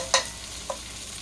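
Italian sausages frying in a ridged grill skillet: a soft sizzle underneath, with two quick scraping clicks of a utensil, the first sharper than the second.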